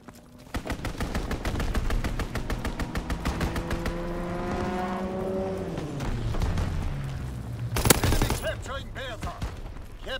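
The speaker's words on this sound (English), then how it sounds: "Strafing run inbound." Strafing-run gunfire in the World War II shooter game Call of Duty: WWII: loud, rapid bursts of automatic fire alongside a swooping, descending aircraft engine tone, with a sharp blast near the end.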